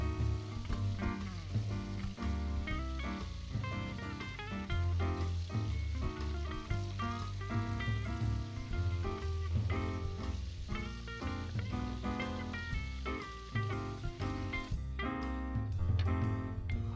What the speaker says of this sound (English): Give the crabs a final rinse before it's time to start cooking.